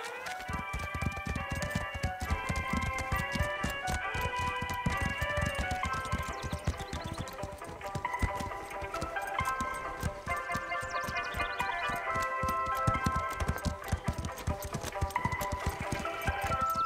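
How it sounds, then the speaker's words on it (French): Cartoon horses walk with a busy, rhythmic clip-clop of hooves under a bright melodic music score, the hoofbeats steady and prominent throughout with no voices. "Nos chevaux vont devoir marcher au-dessus de ces ficelles."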